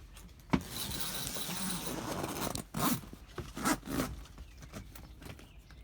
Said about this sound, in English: we can finish zipping both zippers